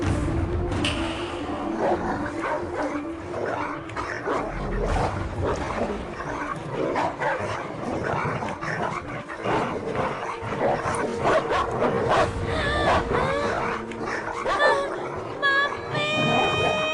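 Several dogs bark and yip continuously in a film scene where they are set loose on a young girl. The barking is dense and agitated, with whimpers and excited shouting mixed in.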